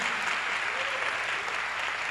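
A church congregation claps in continuous, dense applause that fills the room evenly throughout, with no pause or talking on top.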